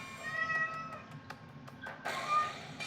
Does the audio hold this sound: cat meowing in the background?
yes